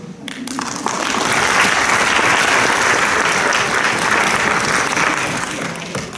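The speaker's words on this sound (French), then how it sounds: "Et vous applaudissez ça" A lecture audience bursts into applause, swelling quickly after a brief pause into loud, sustained clapping from a large crowd that holds steady for several seconds before starting to thin.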